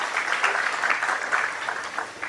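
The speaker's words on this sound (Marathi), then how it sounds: "जोरदार टाळ्या एकदा दादांसाठी वाजवा" An audience bursts into dense, continuous clapping, heard close and fairly loud for a few seconds without pause.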